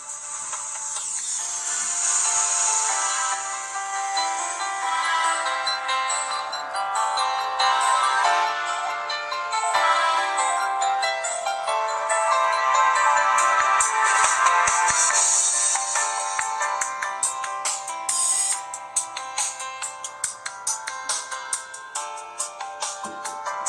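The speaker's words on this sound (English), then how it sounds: "Here's a quick demo of what it's like to watch a YouTube video on here." Audio from a YouTube video plays through the stereo speakers of a BDF M107 10-inch Android tablet, a steady, fairly bright and somewhat thin-sounding stream of music and sound that runs continuously without pause and with no one talking over it.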